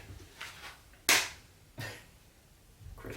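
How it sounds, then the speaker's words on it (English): A few separate hand claps sound in a quiet room, sharp and close, with one much louder crack in the middle, then another softer clap and a weaker one near the end. "Let me clap."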